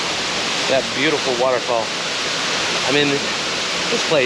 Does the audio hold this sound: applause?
no